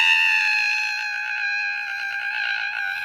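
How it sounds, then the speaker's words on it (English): A cartoon character named Hugga screaming: one long, steady, high-pitched sustained scream that holds for about three seconds, loud and alone. "can you stop screaming?"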